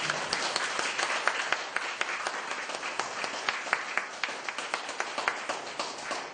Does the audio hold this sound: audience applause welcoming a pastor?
yes